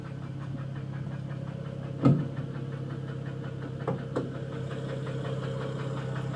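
A car engine running with a faulty chugging, steam-train-like noise from the right-hand side of the engine bay: a steady low idle rumble with a few louder knocks, heard alone.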